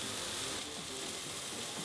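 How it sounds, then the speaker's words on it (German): Grated vegetables frying in a hot pan give a steady, close sizzle that holds evenly throughout, with faint scraping and stirring ticks mixed in. "Einfach runterraspeln damit, in die Pfanne ballern."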